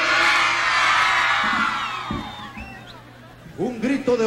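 A crowd of women at a tropical music variety show shouts and cheers loudly together, the roar fading gradually before a few individual voices pop up near the end.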